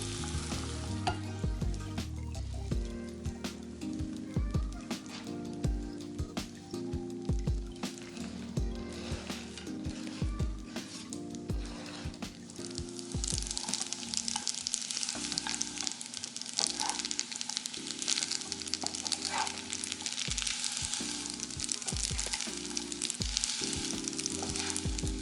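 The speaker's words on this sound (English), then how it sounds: "add the arugula and spinach and toss to coat until it's all wilted" Pasta tossed with arugula and spinach in a hot pan, a continuous frying sizzle with repeated stirring and scraping clatter over a low background hum, steady and fairly quiet throughout.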